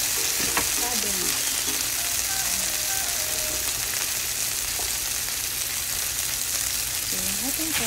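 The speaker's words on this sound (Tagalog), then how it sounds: "ilalagay natin sa pot yung ating veggies" Cabbage and other vegetables frying in a pot for a stir-fry served with palabok noodles, giving a steady, loud sizzle throughout with faint background sounds.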